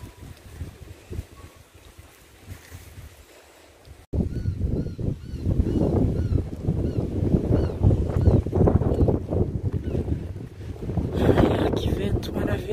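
Strong wind gusts through a cemetery, a loud rumbling buffet across the microphone that starts suddenly and keeps roaring in waves, with someone speaking over it.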